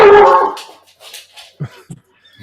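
A dog lets out a loud bark up close, followed by a few short, quieter yips and whimpers with pauses between them, and no talking.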